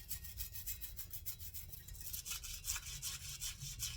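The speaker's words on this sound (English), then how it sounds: "this is going to take some scrubbing" Steady, rhythmic scrubbing of a Marlin 93 rifle receiver, close and continuous with repeated brush-like strokes on metal, no talking.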